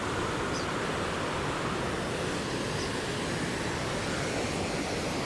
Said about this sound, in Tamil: எப்படி தண்ணி ஓடுது பார்த்தீங்களா?